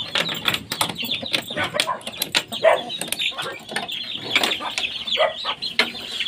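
Pet chickens clucking busily close by while waiting to be fed, many short overlapping clucks and some wing flutters, with a person speaking faintly among them.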